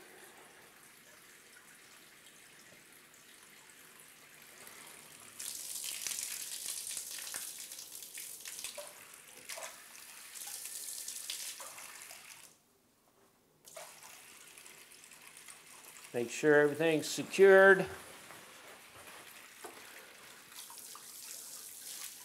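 A bathtub tap runs during a home inspection, a steady hissing stream of water that drops out briefly before resuming, with someone speaking near the end.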